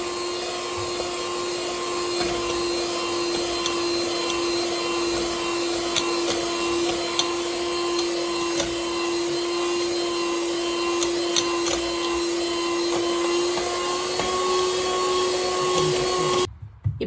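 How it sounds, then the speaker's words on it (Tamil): Electric mixer whirring steadily as an egg is beaten into avocado cookie batter, a constant close motor drone with faint scraping against the bowl, cutting off abruptly near the end. "இதையும் சேர்த்து நல்லா பீட் பண்ணிக்கோங்க."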